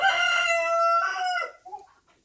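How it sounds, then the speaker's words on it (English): A rooster crows loudly and close by outdoors among free-ranging chickens, one long drawn-out call followed by softer clucking as it fades. "the chickens are out free ranging"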